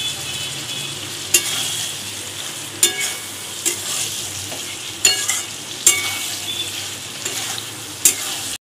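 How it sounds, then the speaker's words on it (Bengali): Fried pointed gourd and potatoes are stir-fried in masala with prawns for a Bengali curry: a soft, constant sizzle broken by sharp clanks and scrapes of a spoon against the pan at irregular intervals, close and fairly loud. "ভালো করে একটু কষিয়ে সবগুলো তারপর জল দিয়ে দেব।"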